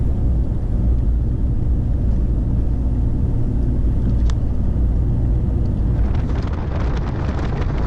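A 4x4 rolls along a corrugated gravel loop road at Steep Point, a loud continuous rumble and drone with rattling that grows busier toward the end, no voices.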